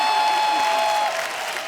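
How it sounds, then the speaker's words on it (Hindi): Studio audience applause on a Hindi comedy talk show as a guest, fashion and jewelry designer Riddhima Kapoor Sahni, is welcomed: dense, steady clapping from a large crowd, easing off slightly toward the end, with no voices over it. "जोरदार तालियां रिधिमा के लिए।"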